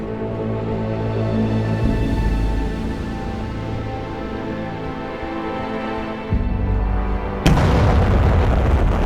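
Massive supernova explosion rendered as a sustained, loud, deep rumbling roar with layered booming swells, ending in a sharp, even louder blast burst near the close, with no voices.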